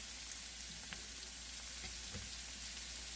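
Vegetables sauté in oil in a pan, a quiet, steady sizzle with a few faint ticks and pops, no one speaking.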